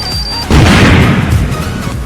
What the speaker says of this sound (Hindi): सब बम ला कंप्लीट फोड़ दें। अच्छा खासा आवाज़ दी